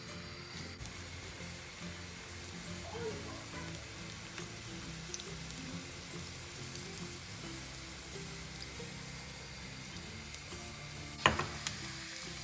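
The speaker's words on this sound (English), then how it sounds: "I'm going to add the sliced up garlic and just gently cook this till it starts to" Sliced garlic sizzling gently in oil in a pan for spicy garlic tomato pasta, a steady soft hiss with faint crackles, plus a sharp utensil clink near the end.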